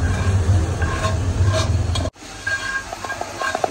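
Magur catfish pieces frying in spiced oil with chili, turmeric and coriander, a loud close sizzle and stirring clatter that briefly cuts out midway, then resumes more softly with light scraping, with no talk.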